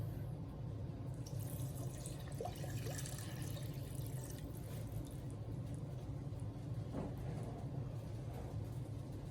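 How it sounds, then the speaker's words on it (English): Steady running water pours continuously into a container, a low watery rush with faint splashing throughout, close by and fairly quiet. "I'm gonna add 2 cups of water."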